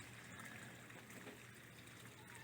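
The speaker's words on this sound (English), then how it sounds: "This is the water here going into the pond, and so it's not putting out much." Garden hose trickling a weak flow of water into a tilapia pond outdoors, a faint, steady wash of running water throughout.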